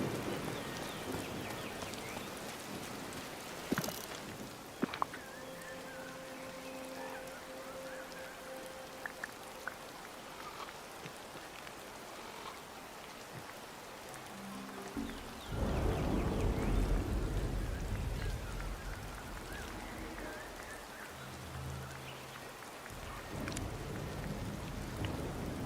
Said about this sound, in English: Icky rain.